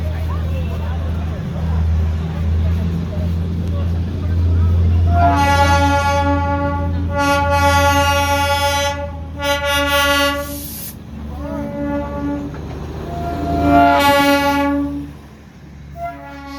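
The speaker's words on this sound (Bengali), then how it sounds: "আর এখন একটা টয় ট্রেন আসছে" The Darjeeling toy train pulls in at Batasia Loop, its horn sounding in several long toots over rumbling rail noise, with a crowd talking nearby.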